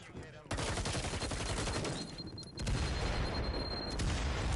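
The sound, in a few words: gunfire in a video game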